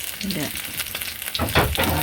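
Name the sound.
tilapia fish frying in a pan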